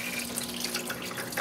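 A parts washer for RC car parts runs with solvent flowing steadily from its nozzle, a continuous close splashing, trickling stream.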